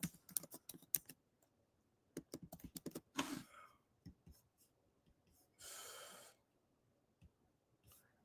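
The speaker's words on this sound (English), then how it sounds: "So, see if I could type in anything else about Robert Barsamian." Someone types on a computer keyboard in quiet bursts of quick close key clicks, pausing between runs, with a soft breath or snort and a brief rustle between them.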